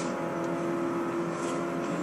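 Bugatti Veyron Super Sport at high speed in the racing game Forza Horizon, a steady engine whir and roar at sustained revs, loud and continuous.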